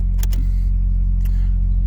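A Volkswagen Golf engine ticks over at a steady, smooth idle close by, a constant low hum with a couple of brief metallic clicks near the start and again partway through.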